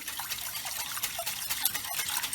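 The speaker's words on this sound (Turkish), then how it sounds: "Ardından çırpıyorum çırpma telimiyle." A wire whisk beating raw cream in a pot while making kadayıf milk pudding, giving a steady, wet, rapid swishing and clinking that runs continuously at close range.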